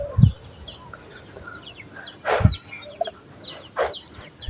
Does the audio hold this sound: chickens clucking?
yes